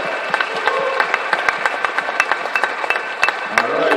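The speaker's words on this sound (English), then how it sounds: "let's give a round of applause" Dense, steady clapping from a room full of families and students at a senior signing celebration, close and lively, with sharp individual claps standing out over the mass throughout.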